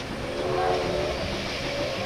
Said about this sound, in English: the express train is come